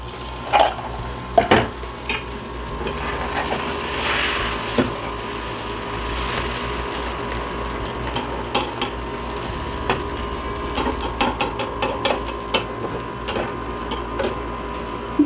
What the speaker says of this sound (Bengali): ডিম দিয়ে পরোটাটা আমি ভালো করে ভেজে নিব।